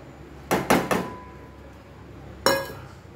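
A spoon or whisk knocks against a bowl while milk powder is mixed into milk: a quick cluster of three sharp clinks, a pause, then one more knock, faint in a quiet kitchen.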